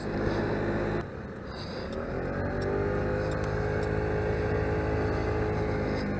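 A Honda ST1300 motorcycle passes on a road near the beach, its engine note rising and sweeping by loudly and steadily with no talk over it.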